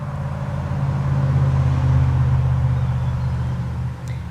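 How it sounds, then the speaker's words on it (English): Car traffic rumbles by outdoors, a loud low engine and tire drone that swells toward the middle and then eases off as the vehicle passes, with no voices. "the car, it's so loud today"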